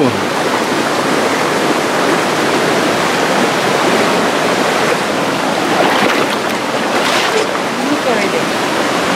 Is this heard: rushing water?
yes